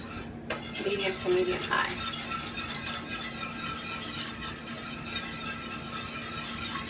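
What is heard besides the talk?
whisking vegan mac and cheese sauce in a pot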